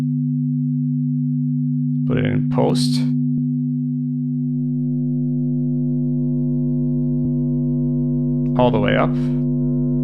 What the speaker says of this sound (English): we're gonna distort the left ear, but we're not gonna distort the right ear